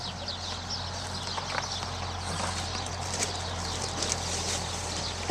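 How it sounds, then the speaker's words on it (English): Brown Lusitanian horses in training on an agricultural farm, soft scattered hoof clops at a distance under steady outdoor ambience with birds and rustling. "The brown horses are Lusitanian horses"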